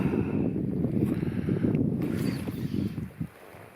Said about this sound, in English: the wind's kind of coming at me